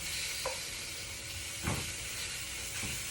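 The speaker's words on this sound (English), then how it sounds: "get the seasoning all over the salmon, and the pot is already hot over here. Throw it right in the searing hot pot pan." Seasoned salmon searing in a very hot pan while being blackened, a steady loud hiss of sizzling with a few brief scraping or shifting sounds over it, close up and without talk.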